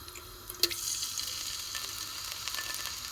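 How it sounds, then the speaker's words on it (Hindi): Garlic-ginger paste frying with cumin seeds in hot oil in a pot for a chicken curry, giving a continuous close hiss and sizzle with one sharp utensil tap early on and no voices. "ये देखिए लहसुन अदरक जो है वो हल्का सा मैंने फ्राई कर लिया है"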